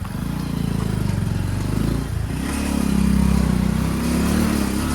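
A vehicle, probably a motorcycle, passes along a road during light rain, its mid-pitched engine droning close by and swelling slightly as it goes past, with no voices.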